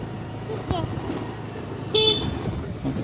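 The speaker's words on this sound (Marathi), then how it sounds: "हॉर्न वाजव" A short car horn toot sounds once amid the low rumble of a vehicle, with voices around it.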